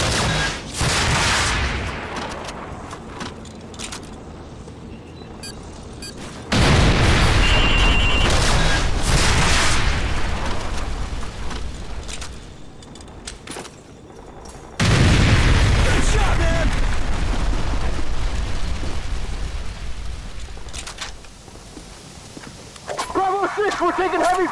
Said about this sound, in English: We're taking heavy fire on our position north of the overpass!